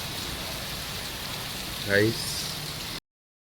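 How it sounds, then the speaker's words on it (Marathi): Heavy first monsoon rain falls steadily in Navi Mumbai, a continuous broadband hiss throughout, with a brief voice-like tonal sound near the middle and rain cutting off abruptly near the end. "आज नवी मुंबईत पहिला पाऊस खूप पडायला लागला आहे"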